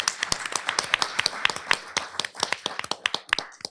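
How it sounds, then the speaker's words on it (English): An audience applauds a doctor introduced at a lecture on spirituality in serious illness. The clapping is sparse and brisk, with individual claps standing out for a few seconds. "So a big round of applause for Dr. Rosbrin."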